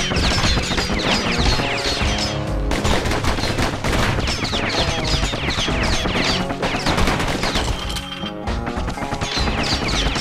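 Dense, continuous gunfire with rapid bursts and crashing impacts from the video game Bastion, loud and close over game music, with no talking.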